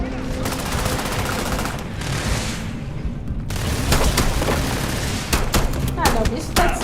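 Rapid bursts of gunfire in the video game Starfield crackle in quick succession, some loud sharp shots standing out near the end, with a voice talking faintly underneath.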